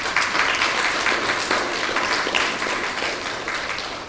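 An audience applauds at the launch of the PERT programme, steady sustained clapping from a crowd in a hall, fairly loud and continuous with no break.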